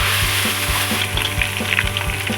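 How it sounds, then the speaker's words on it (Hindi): Ginger garlic paste sizzles in hot oil with garam masala in a pan for chicken pulao, a steady close crackle with a rhythmic thud of stirring about twice a second and no voices. "फ़ौरन ही इसके अंदर लहसुन अदरक का पेस्ट जो बड़े 2 चम्मच हैं,"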